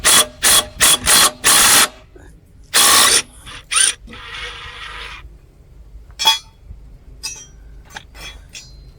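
A socket ratchet loosens the engine mounting bolts on an old lawnmower, with several quick loud ratcheting bursts close up, then scattered metallic clinks and softer clicks as the tool is handled.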